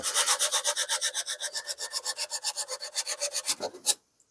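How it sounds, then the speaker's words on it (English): Paint is sanded off a wooden saw handle by hand, producing rapid, rhythmic back-and-forth rasping strokes, close and steady, stopping abruptly near the end. "might as well sand the whole handle down. Get the paint off of it"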